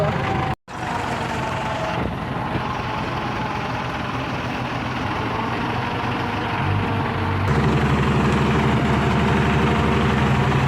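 A steady tractor engine rumbles continuously nearby, idling low and even, with a brief dropout near the start and a slight shift in tone later.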